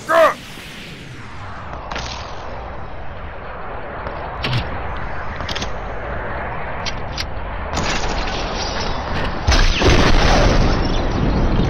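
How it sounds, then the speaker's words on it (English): Rocket explosions going off during a Fortnite battle: a sharp close blast at the start, then scattered booms and cracks over a steady roar of game noise, rising toward a heavier burst near the end. "Oh, damn, how many rockets?"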